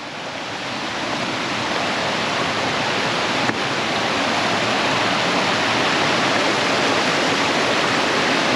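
Glacial water pours over Balea waterfall on the Transfagarasan in Romania, a loud, steady, broadband roar that rises slightly at the start and holds without letup, with no voices.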